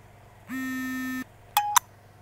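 Electronic phone tones sound during a call: a steady held beep for about three-quarters of a second, then two short higher chirps, fairly loud with no talking.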